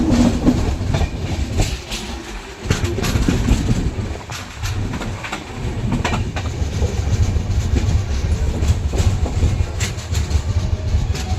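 The Janmabhoomi SF Express runs along the rails with a loud, steady rumble and rhythmic clickety-clack of wheels over joints, heard from aboard for the full stretch.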